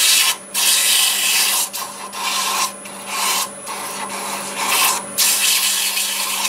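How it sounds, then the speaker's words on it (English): Sandpaper rasps against a small wooden bottle stopper spinning in reverse on a lathe at about 790 RPM, in several strokes with brief pauses, over the steady hum of the motor. "Sand it in reverse."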